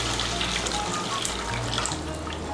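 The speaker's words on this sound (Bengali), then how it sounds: "এখন আমি এর মধ্যে দিয়ে দেব জল। আপনারা যেরকম ঝোল খাবেন সেই অনুযায়ী জল দেবেন। আমি এর মধ্যে 2 কাপ গরম জল দিচ্ছি।" Two cups of hot water pour steadily into a pan of spicy masala for a Bengali chhana kofta curry, giving a continuous loud splashing rush with a faint sizzle throughout.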